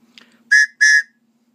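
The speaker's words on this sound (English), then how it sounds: "sounds like a train whistle" Two short, shrill blasts from a small survival whistle in a Tops fishing kit, close and loud, with a brief pause between them and a faint hum underneath.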